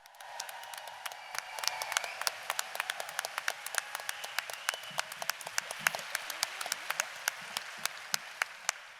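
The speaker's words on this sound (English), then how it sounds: "Could you please give a massive round of applause, a really huge, warm FiLiA welcome for Susan Hawthorne" At a FiLiA conference welcome for a poetry reading, a modest audience claps warmly, with sharp individual claps standing out distinctly over a thinner bed of applause.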